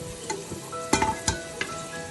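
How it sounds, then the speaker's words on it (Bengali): Potatoes coated in turmeric and salt fry in hot oil in a pan, giving a bright sustained sizzle broken by a few sharp clinks and scrapes of stirring. "আলুগুলোকে লাল করে ভেজে নিব।"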